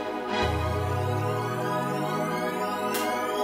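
A hip hop beat's riser effect built in FL Studio, a loud buzzy synth tone sliding steadily upward in pitch for about three seconds, ending with a brief noisy burst.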